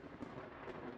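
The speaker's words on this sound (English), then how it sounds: "that's getting quite close to that that thunder" Thunder rolls in the space-building game Space Engineers, a low, continuous rumble mixed with wind-like noise, fairly quiet and without speech.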